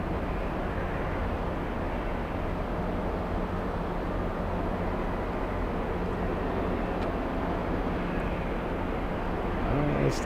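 A JetBlue jet arriving from Dublin on final approach into Boston Logan airport gives a steady, continuous engine roar with heavy low rumble that holds at an even level throughout.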